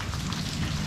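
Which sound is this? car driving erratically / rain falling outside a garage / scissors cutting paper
rain falling outside a garage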